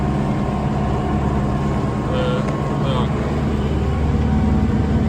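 An old tractor engine idles and chugs steadily in a wheat field after rain, a continuous low diesel drone close by while someone speaks briefly over it.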